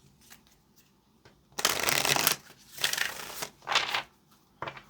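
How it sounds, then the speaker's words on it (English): Tarot cards are shuffled close up in several quick riffling bursts, crisp and papery, separated by short quiet pauses and light handling taps. "Let's get this last shuffle."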